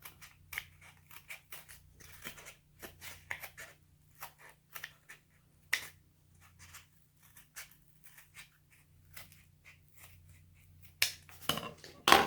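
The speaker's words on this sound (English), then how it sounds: "I'm just gonna snip out from the middle to the outside and just cut." Scissors snipping through a cardboard egg carton while making a mask: many sharp, close, irregular snips and crunches, quiet overall, with a faint low hum underneath and a louder rustle at the end.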